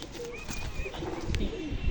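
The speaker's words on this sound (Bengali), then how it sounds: "এই যে আর একটা পায়রা দেখেন, এটাই লাস্ট পায়রা" A female pigeon coos softly at close range in a short burst, with a few faint high chirps from other birds in the background.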